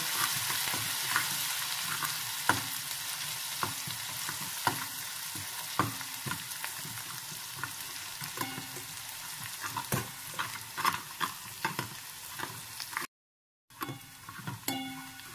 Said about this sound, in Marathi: पेस्ट चांगली परतून घेऊया